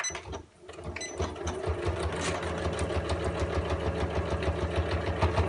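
A sewing machine stitches steadily over a thick seam with several layers of fabric while making a fabric storage caddy, its rapid mechanical whirr running close and continuous after a brief pause at the start.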